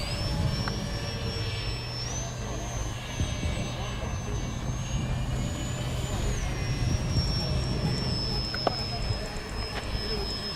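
A small twin-motor EPP foam RC airplane buzzes steadily overhead during an aerial dogfight, with a thin, high motor whine that shifts pitch now and then, over outdoor background noise.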